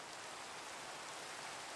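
Steady rain in the Minecraft video game hisses as a continuous, even wash of noise, soft and unbroken throughout with no other sounds.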